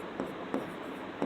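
Chalk or marker writing on a board during a maths lesson, three quick strokes in about a second, close and clear over a steady room hiss.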